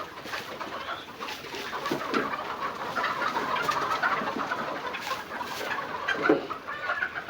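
Fayoumi chickens on a farm in Moulvibazar cluck and murmur steadily in a busy flock, a continuous layered farmyard chatter with occasional louder squawks, no talking.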